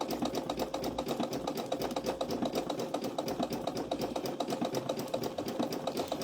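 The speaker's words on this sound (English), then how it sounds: "I was just sewing along there." A sewing machine runs continuously while stitching an appliqué bunny onto a dishtowel, a fast, even mechanical patter, close and steady throughout.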